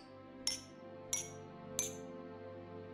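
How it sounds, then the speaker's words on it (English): Three evenly spaced bright clinks ring out as drinking glasses filled with different amounts of water are struck like small bells, each note sustaining briefly over a soft, steady background tone. "The different sounds you're hearing are because of the different amounts of water in each of these glasses."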